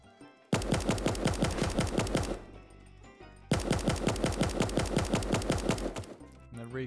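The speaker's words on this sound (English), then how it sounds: "Now for the M16." Two sustained bursts of rapid automatic fire from a gold M16 in Super Animal Royale, each about two seconds of evenly spaced, loud, punchy shots, separated by a short quiet gap.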